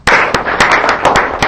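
Classroom claps ring out for a student after she reads, a loud, fairly regular series of about seven or eight sharp hand slaps that come close together and soon end.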